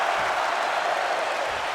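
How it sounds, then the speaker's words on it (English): A wrestling crowd roars and applauds in a steady, noisy wash of cheering and clapping that fills the hall without a break. "you hear the crowd going crazy"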